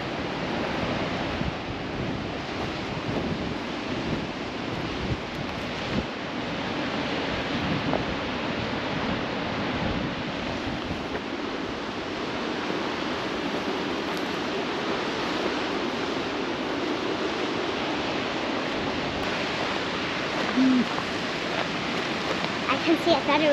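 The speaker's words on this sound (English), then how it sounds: "That's a big waterfall today." Big waterfall in the Sierra Nevada, a steady broad roar of rushing water heard from a distance, continuous and even throughout, with some wind noise mixed in.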